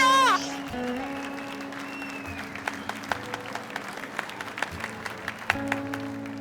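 Scattered applause follows a free-pose moment in a documentary about Tourette syndrome, light claps spread across a quiet room after a short burst of speech, modest and steady.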